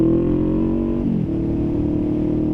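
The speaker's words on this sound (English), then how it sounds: "Ooh, a little bit of traffic." A motorbike rides through light road traffic, its engine droning loud and close at a steady pitch, with a brief dip in tone partway through.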